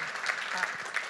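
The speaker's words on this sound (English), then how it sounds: "just give him a round of applause and to say thank you very much." An audience gives a round of applause to thank a performer after an oral-tradition storytelling, a brief dense burst of clapping heard alone.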